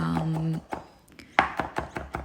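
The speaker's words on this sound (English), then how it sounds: "Now, I'm just going to be chopping them up into tiny pieces." Knife chopping garlic into tiny pieces on a board for a chickpea and vegetable soup, a quick run of sharp, close taps in steady rhythm, starting after a brief low hum.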